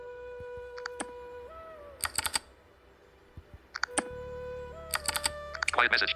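Two bursts of an electronic ringtone called Enter keyboard double, each a bright tonal chime mixed with crisp rapid keyboard-like clicks, with a quieter pause between them and a faint voice underneath.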